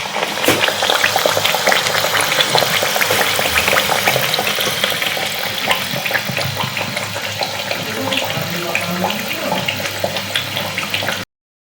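Thekua, wheat-dough sweets, frying in oil make a dense, bubbling sizzle that stays loud and steady, with scattered crackles and no talk, then cuts off abruptly.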